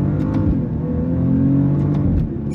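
A 2024 Maserati Ghibli Modena Ultima downshifting on its paddles in sport manual mode lets out a brief, loud engine blip from inside the car.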